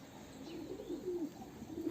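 Soft, low cooing of wet pigeons repeats in gentle warbling phrases, fairly close against a quiet background hum.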